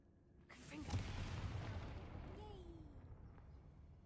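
A Confringo blasting spell in Hogwarts Legacy bursts into a rumbling explosion that swells and slowly fades, with a brief spoken word just before it.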